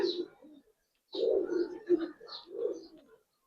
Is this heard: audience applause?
no